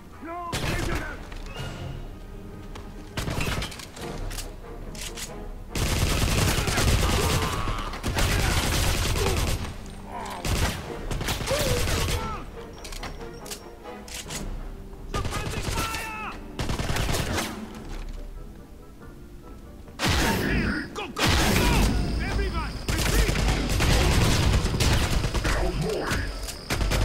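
Sustained gunfire in the Wolfenstein video game, bursts of automatic weapons and scattered shots rolling through a firefight, loud and dense with short lulls, while voices shout over the battle.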